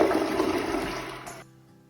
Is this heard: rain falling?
no